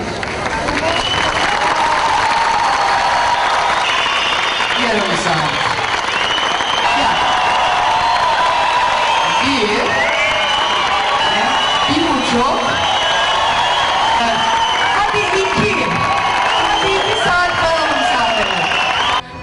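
A large holiday crowd at an outdoor Antalya concert applauds and cheers steadily for the singer, with whoops and scattered voices rising over a dense, continuous wash of clapping that carries on throughout.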